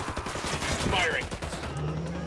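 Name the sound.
gunfire in video game Ghost Recon Wildlands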